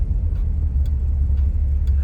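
A 1962 Ford Thunderbird driving, heard as a steady, deep engine and road rumble from inside the car, constant and fairly loud with no talk.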